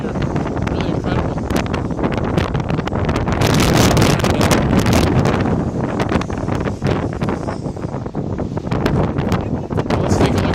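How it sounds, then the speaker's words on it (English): Strong wind buffets a phone microphone outdoors near Saint Joseph Oratory, producing loud, continuous rumbling roar with rapid gusty thumps that swell in the middle and never let up. "Watch my phone because this thing is picking up wind."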